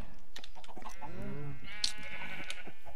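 Sheep bleat in the Minecraft video game, a few wavering baa calls close and clear, with someone talking in German alongside them.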